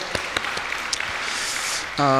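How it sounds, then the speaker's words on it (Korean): A church congregation applauds during a service in a steady wash of many hands clapping, and a voice begins speaking right at the end. "우리 박수로 영광 올려드렸으면 좋겠습니다"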